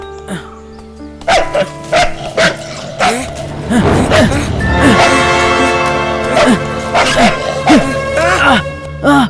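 A dog barks repeatedly and whimpers in a Hindi-dubbed film scene, loud and close, with overlapping voices and shouting throughout.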